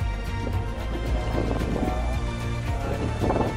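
Strong wind roars steadily across an open mountain campsite near Bali's highest peak, a loud, continuous buffeting rumble on the microphone with gusty swells and no speech.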